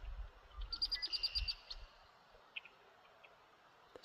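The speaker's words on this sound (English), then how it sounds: "You can hear them calling up the road up there." Red-winged blackbirds call from a distance along the Virginia Creeper Trail: a quick burst of bright, repeated chirps in the first seconds, then a few scattered faint calls over quiet outdoor ambience.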